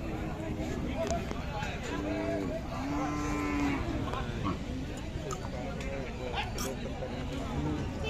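Gir cattle and bulls at a crowded livestock market low and moo repeatedly, several drawn-out calls rising over a constant background of people talking and general crowd bustle.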